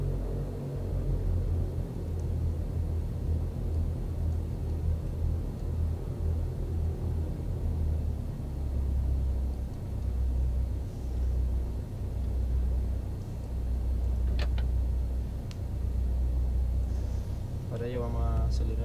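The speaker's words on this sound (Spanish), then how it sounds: "vamos a proceder a hacer la prueba de motor" Steady low rumbling drone of a Cessna 172 piston engine idling during an engine run-up check in the flight simulator X-Plane 11, continuous and even throughout, with a few faint clicks near the end.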